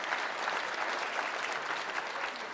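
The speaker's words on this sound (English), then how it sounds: "Give the man a standing ovation." Sustained applause from a convention crowd giving a standing ovation, an even, continuous roar of clapping that holds at a steady level from start to finish.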